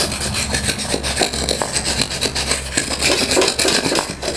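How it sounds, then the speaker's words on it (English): A hard piece of wood scrapes debris off a Massey Ferguson 23c cylinder block, giving a loud, continuous rasping rub in steady back-and-forth strokes, up close with no talking. "I can just scrape off all the debris."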